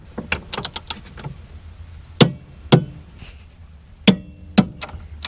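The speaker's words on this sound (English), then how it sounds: "we're just going to crank it till we get that click" A socket wrench turns the bolt on an Andersen Ultimate Gen 3 fifth-wheel hitch, giving a quick run of sharp ratcheting clicks followed by a few louder, spaced metallic knocks, close and alone.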